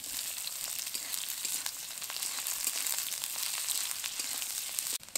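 Chopped onions frying in oil with two dried chillies, a soft steady sizzle with faint crackles, quiet and close, no voices.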